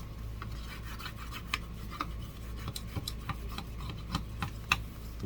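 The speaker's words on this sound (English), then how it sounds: "Let's take our little Dollar Tree scraper and scrape that down nice and smooth." Small Dollar Tree scraper dragged across a craft tray surface, a quiet series of short rasping strokes in an uneven rhythm, close to the microphone against a low hum.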